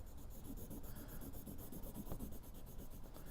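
Quiet, rhythmic rubbing strokes of a blending tool on paper, soft repeated scratches in a close, steady back-and-forth pattern.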